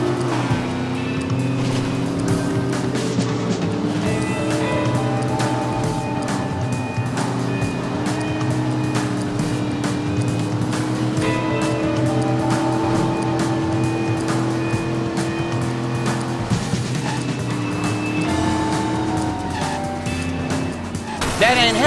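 Car driving in Driver San Francisco, with a continuous revving engine that rises and falls in pitch, occasional tire squeals and passing traffic, all sustained and loud, with voices talking over it.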